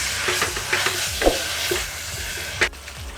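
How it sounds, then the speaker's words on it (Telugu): Mutton keema being stirred and fried with masala in a pan: repeated scraping strokes of a spatula over a steady sizzle, with a sharper clack near the end, close and clear, no voices. "దీనికి మసాలా మిశ్రమం అంతా పట్టే వరకు మనం అలా తిప్పుతూ వేయించుకుందామండి"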